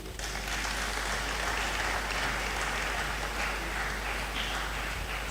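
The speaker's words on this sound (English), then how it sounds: "As she goes to her seat, let's keep the applause." Sustained audience applause at a public health anti-drug campaign launch at a university, a steady dense wash of clapping running the whole time, fairly even in loudness with no voices on top.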